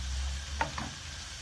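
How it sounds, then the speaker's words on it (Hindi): Beef pieces and spices fry for dopiaza in a pan, giving a steady, low, close sizzle with two brief scraping stirs. "हम 2 मिनट भून लेंगे।"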